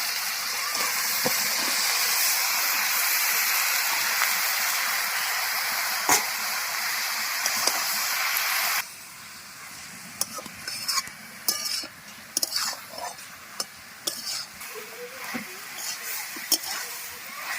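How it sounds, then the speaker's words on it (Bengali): Greens, potato and eggplant go into a pan of prawns fried with spices, bringing a loud, steady sizzle that drops abruptly to a quieter simmer halfway through, with scattered stirring clinks and scrapes after. "এবার শাক, আলু, বেগুন দিয়ে দেবো।"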